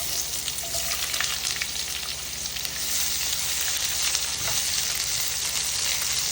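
Onion and garlic sizzle steadily in a pan after chicken was browned there, a dense frying hiss that holds at an even level throughout with no talking.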